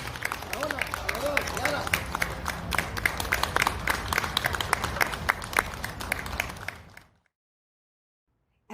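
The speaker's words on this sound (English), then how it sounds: "one last round of applause" A family festival crowd gives a final round of applause for children in a mariachi program, dense, lively clapping with some cheering and babble lasting about seven seconds before cutting off abruptly.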